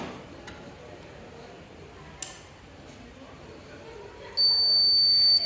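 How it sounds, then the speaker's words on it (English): A sustained electronic beep tone from a heating jacket's touch sensor sounds near the end, steady and clear after a brief click, over a quiet background, as its heating pad turns on. "you can hear a beep sound and the heating pad turns on"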